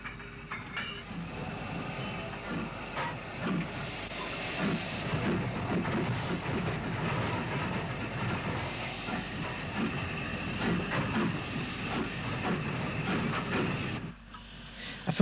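A steam tank engine and an 0-6-0 locomotive shunt wagons around a railway yard in Ulster, a steady rumbling roll with hiss and scattered clanks that runs continuously before briefly dropping away near the end.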